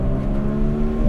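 A modified 1991 Suzuki Cappuccino's small engine revs high and steady, a loud buzzing drone building slightly in a short burst with no voices.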